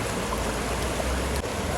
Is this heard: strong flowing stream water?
yes